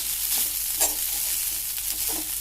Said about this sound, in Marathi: त्याच्यानंतर पोहे थोडे मिक्सअप करून घेऊ